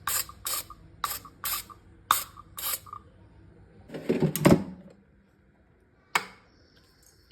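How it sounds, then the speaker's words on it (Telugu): A trigger oil sprayer mists oil over carrot fries in an air fryer basket. Several quick clicking pumps are followed by a short hissing burst of spray and one last click, all close and with no talking. "ఇక్కడ నేను కొంచెం ఆయిల్ స్ప్రే చేస్తున్నాను."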